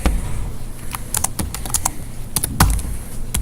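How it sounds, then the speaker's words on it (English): Rapid typing on a computer keyboard: a busy, uneven patter of crisp key clicks, some bunched in quick runs, heard close over a low room hum. "I'm making so many typos while I'm typing it"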